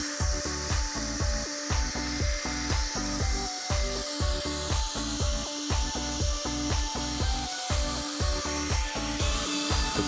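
Drill with two speed settings, used with ratchet straps while working on a KTM 390 Adventure motorcycle, a continuous motor whir with a regular rhythmic grinding pulse repeating about twice a second, close and steady with no talk.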